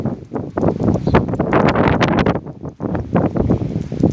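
Strong gusty wind in a sandstorm while walking a dog outdoors, buffeting the microphone in loud, uneven roaring bursts with brief lulls and no talking.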